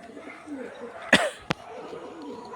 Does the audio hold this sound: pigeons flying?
yes